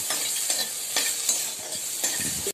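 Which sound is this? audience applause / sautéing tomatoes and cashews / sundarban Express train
sautéing tomatoes and cashews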